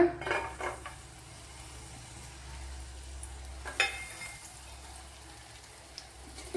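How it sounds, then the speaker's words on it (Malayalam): Garlic and ginger go into a hot pan for a Kerala-style pumpkin dish. A soft clatter of the pan and utensil comes first, then a quiet, steady sizzle with no talking. "ഇതിലേക്ക് ഒരു ആറ് വെളുത്തുള്ളി ശാല ഇഞ്ചി ഇട്ട് കൊടുക്കുക"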